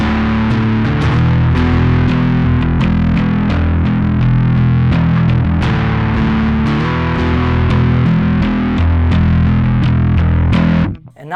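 A Sterling by Music Man DarkRay bass guitar played through overdrive on its alpha setting, giving a loud, continuous distorted riff with repeated plucked note attacks, ending abruptly.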